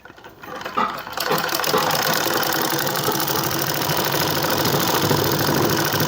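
A sewing machine stitches palazzo fabric with a half-inch seam margin, starting after a brief pause and then running as a steady, close, rapid mechanical whir.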